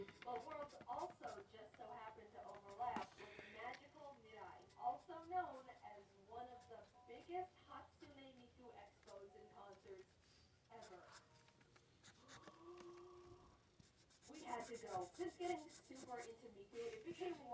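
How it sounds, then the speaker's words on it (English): An Expo dry-erase marker drawing the body of a figure, its steady squeaky rubbing strokes running under a person talking nearly throughout. "I'm gonna start using the expo marker for, well, the overall body of this drawing"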